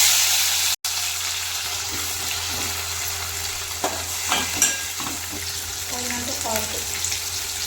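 Whole spices, green chillies and onions frying in hot oil for pulao give a steady close sizzle throughout, with a few brief clinks and stirring knocks midway and short voice-like bits near the end.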